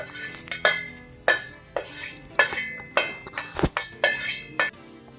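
Puffed rice chivda with fried chaat mix and masala being stirred in a pan, giving a run of sharp metallic clinks and scrapes of spoon on metal, spaced irregularly and close by, with no voices.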